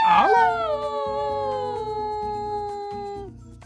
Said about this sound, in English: Was that a dog?